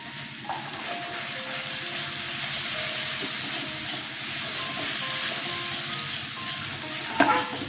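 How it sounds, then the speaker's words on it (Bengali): Turmeric, cumin and coriander powder frying in a pan for an eggplant and taro curry, a steady close sizzle with soft scraping stirs throughout and a sharper clatter near the end, no voices. "হলুদ, জিরের গুঁড়ো, ধনের গুঁড়ো দিয়ে দিলাম।"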